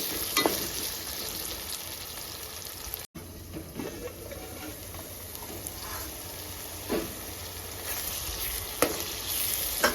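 Cucumber curry sizzles steadily in a pan, a continuous close frying hiss with a brief dropout near the start and a few soft stirring scrapes.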